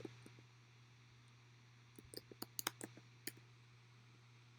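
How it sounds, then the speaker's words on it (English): A handful of quiet key clicks from a computer keyboard, a short burst of taps midway and a few isolated strokes before and after, over a steady low electrical hum. "So I'll type Elsmore."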